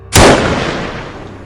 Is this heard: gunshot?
yes